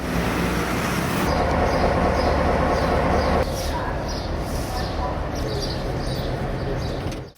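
Trams run through busy Belgrade streets, with a steady rumble of wheels and traffic, a sharp change partway through, and faint birds and street bustle before everything fades at the end.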